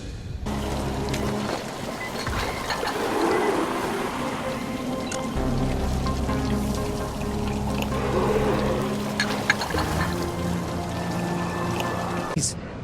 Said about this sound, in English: Even the fountain works again.